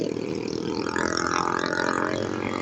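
Motorcycle engines on a street, heard from a pedestrian's position, a loud continuous revving drone with a rising and falling pitch.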